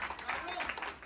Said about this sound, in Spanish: démosle un aplauso al ganador, Vinagre 24-7.